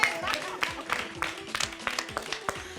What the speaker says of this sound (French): Allez, on applaudit plus fort que ça